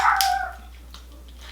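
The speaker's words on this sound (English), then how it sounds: "That's my dog outside, you hear?" A dog barks outside, one short sharp bark followed by a fainter yelp, heard at a distance against a quiet indoor background.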